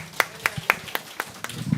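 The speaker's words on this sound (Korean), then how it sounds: "다 같이 수고했다고 박수 한번 하겠습니다" Church congregation applauding long-serving teachers: a handful of crisp, evenly spaced claps ring out in a slow steady rhythm, with a faint murmur of voices underneath.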